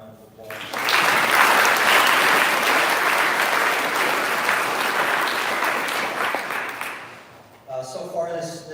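An audience at a school awards night breaks into sustained applause, a dense wash of clapping that swells quickly, holds for several seconds, then fades as a speaker resumes.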